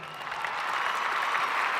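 Audience applause at the grand finale of a televised Tamil dance competition stage show, a dense steady wash of clapping held at an even level throughout, with no voices over it.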